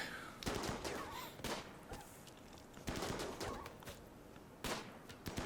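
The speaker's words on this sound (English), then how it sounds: "Okay, we shoot the warg." Video-game gunfire in RimWorld as colonists shoot at a warg: repeated bursts of shots, rapid volleys coming close together at fairly low volume, with no voices.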